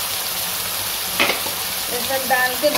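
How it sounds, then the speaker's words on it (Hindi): Ground onion, tomato and garlic paste frying with curry leaves in a pan, a steady close sizzle with a few soft stirring knocks and scrapes. "ये सब डाल के दो मिनट भून लेंगे।"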